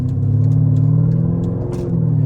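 A deep, throaty exhaust rumble from a 2011 Mercedes SL550 with straight pipes past the catalytic converters, idling close by, steady and loud with a slight rise in pitch partway through.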